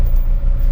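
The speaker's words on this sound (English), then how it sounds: "the Ferrari F40, driving it through the streets of Sydney CBD" A Ferrari F40 growls with a steady, loud, deep engine rumble through Sydney's CBD streets, one brief close pass with no voices.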